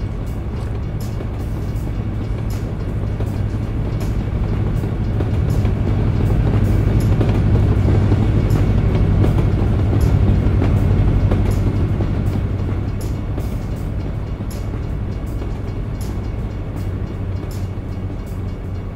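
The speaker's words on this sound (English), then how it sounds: "Train!" A train rolls past in American Truck Simulator, a steady low rumble that swells toward the middle and eases off, with faint rhythmic clacks on top and no talking.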